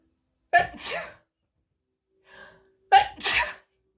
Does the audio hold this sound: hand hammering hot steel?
no